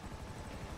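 A police helicopter in GTA Online thrums with a rapid, steady rotor chop and engine rumble, continuous and fairly close for a brief moment.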